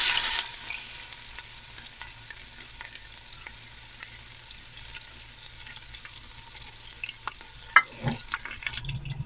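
Chopped onions hit hot oil in a pan for chana pulao, giving a steady close sizzle and crackle throughout, with a few louder pops and stirring scrapes near the end.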